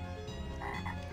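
Frogs croak in a pinball video game, a dense burst of buzzy, repeated croaks over steady electronic machine tones, with no one talking.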